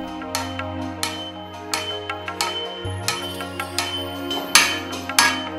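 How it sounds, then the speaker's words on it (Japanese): Sharp metallic strikes of a hammer face beating out sheet metal from the center repeat at a steady pace, roughly one every half second, ringing over a sustained tonal hum. "金槌の鏡を使って中央から地金を打ち延べていきます。"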